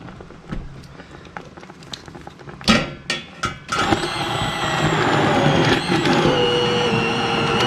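An immersion blender whirs into rhubarb for strawberry rhubarb jam after a few clicks and knocks, then runs as a steady loud grinding buzz that holds through to the end.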